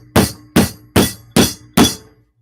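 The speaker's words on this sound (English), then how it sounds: "And using a very heavy hammer. It's going to get loud." Five heavy hammer blows ring out on a metal ring made from a NYC subway token at a steady, even pace, each a loud, sharp clang with a short ringing decay, close to the microphone.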